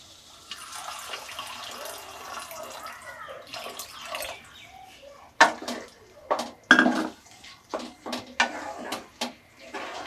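Water poured into a pan of chicken keema cooking on the stove, a brief splashing run followed by several sharp clanks and scrapes of utensils against the pan.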